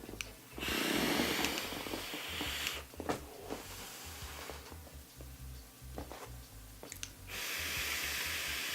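Vapor drawn hard through a Drop Dead RDA with a 0.15-ohm coil at 87 watts and the airflow fully open, giving a loud airy hiss on each pull, with breathy exhales and a muffled voice between draws.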